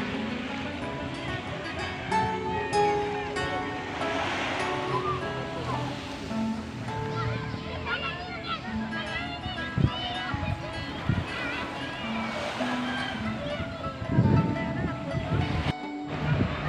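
Waves wash along Pesona beach on the south coast of West Sumatra, a soft continuous surf beneath nearby voices, movement and scattered background activity.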